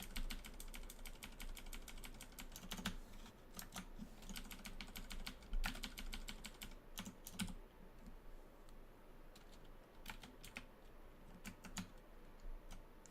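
Computer keyboard keys tapped in rapid, irregular bursts throughout while playing Dungeon Crawl Stone Soup, a clicky clatter of repeated keypresses with short pauses, fairly close and moderately quiet, no talking.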